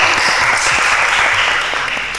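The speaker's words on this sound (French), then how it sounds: "on applaudit pour elles" Studio audience applauding a group of girls who won a competition on a TV show, dense continuous clapping close and loud throughout.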